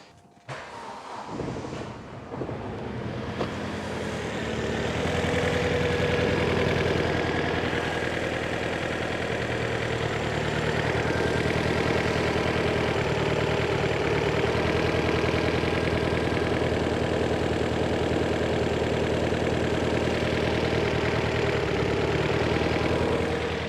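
A Vauxhall Zafira GSi with the turbocharged Z20LET engine, running poorly with its crossover pipe just refitted, idles steadily and loudly after a brief start-up, a continuous close rumble with no talking.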